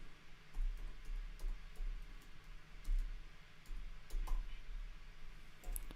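Faint, irregular clicking of a computer keyboard as someone types a search, soft scattered keystrokes over a low steady room hum with no voices.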